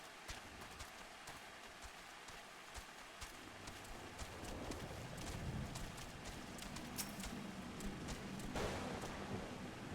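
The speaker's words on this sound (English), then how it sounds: "It's so rainy." Steady rain falls in Final Fantasy XIV, a dense hiss with soft pattering drops that swells slightly louder midway, heard alone at moderate volume.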